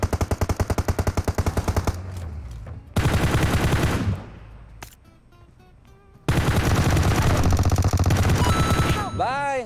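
Rapid automatic gunfire bursts from the mobile battle-royale game PUBG Mobile as shots hit a decoy behind a tree, loud and close, with dense fusillades broken by a quieter gap before heavy firing resumes.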